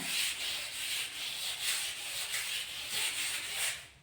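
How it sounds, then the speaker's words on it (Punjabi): A brush scrubs bathroom tiles coated with Harpic in quick, rhythmic back-and-forth strokes, about eight passes, close and fairly soft, with no talking. "ਹੁਣ ਤੁਸੀਂ ਲੈਣਾ ਇੱਕ ਬੁਰਸ਼ ਤੇ ਇੱਕ ਲੈਣਾ ਵਾਈਪਰ ਇਸ ਤਰੀਕੇ ਨਾਲ ਦੇਖੋ ਜੀ ਇਹਨੂੰ ਤੁਸੀਂ ਸਾਫ਼ ਕਰਨਾ"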